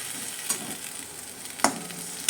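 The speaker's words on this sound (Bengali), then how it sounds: "এখন আদা রসুনের বাটাটা দিয়ে দিচ্ছি দিয়ে ভালো করে কুচিয়ে নেব" Onions with ginger-garlic paste frying in a pan for a village-style mutton and potato curry, a soft steady sizzle broken by three sharp spatula stirs, nearby and without talk.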